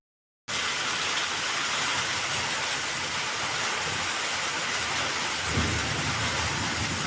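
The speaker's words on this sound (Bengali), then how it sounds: "তোমাদের দেখাচ্ছি বাইরেটা যে কেমন বৃষ্টি হচ্ছে।" Heavy nighttime rain pours steadily outdoors over a yard, a dense continuous hiss with a low rumble of thunder rolling in near the end; no voices.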